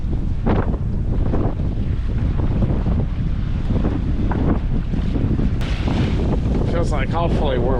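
Gale-force wind roars across a boat at sea as ocean waves wash and slosh around the hull, a loud constant rush with buffeting gusts on the microphone and faint voices partly buried beneath it.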